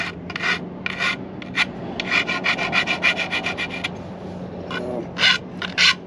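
Hand filing and cutting of wood at a workbench: repeated rasping strokes in bursts, some quick and clustered, others spaced by short pauses, close and moderately loud with no talking.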